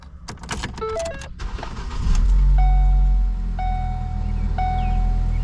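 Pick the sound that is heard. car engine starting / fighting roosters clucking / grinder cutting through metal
car engine starting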